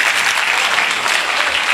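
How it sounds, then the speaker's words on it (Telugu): An audience claps loudly and steadily throughout, a dense close burst of applause with no voices. "ఒక్కసారి గట్టిగా క్లాప్స్ కొట్టరా?"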